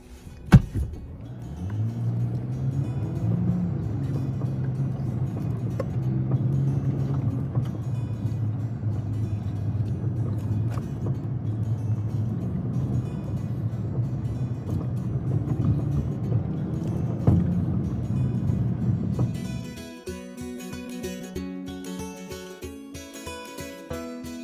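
2022 Nissan Frontier crawling in 4-wheel drive along a sandy forest track in Ocala National Forest, steady low engine and tyre rumble with interior rattles, fading to quieter cabin noise near the end.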